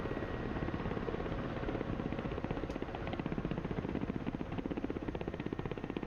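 A Ka-50 coaxial-rotor attack helicopter in the DCS combat flight simulator, its rotor chopping in a fast, even rhythm over a steady engine drone, close and continuous with no voices.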